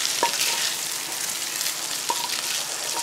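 Crispy sausages go into a pan of frying vegetables with a continuous close sizzle, plus a couple of brief utensil scrapes and taps against the pan.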